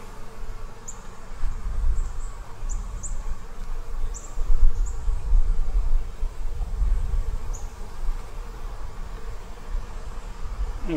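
Agitated honeybees swarm around an open beehive during fall hive preparation, making a dense, continuous buzz that swells and fades in waves, with faint high chirps scattered above it.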